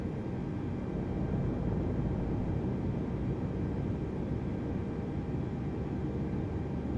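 An Airbus A320neo jet engine spins up in Microsoft Flight Simulator 2020, producing a constant, even roar with a deep rumble and no talking over it.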